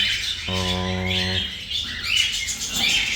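A heavy pied fallow cockatiel, the father of a breeding family, gives one short harmonic squawk close by. Faint chirps and bird chatter carry on around it.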